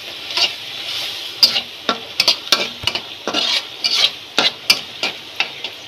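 Prawns sautéing in a pan for a prawn and taro-leaf dish give a steady close sizzle, broken by repeated sharp scrapes and clinks of a spatula stirring through the whole stretch, with no talking.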